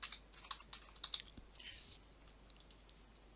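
Quiet, close computer keyboard typing: a quick burst of crisp key clicks at first, then thinning out into a few scattered taps, with no talking.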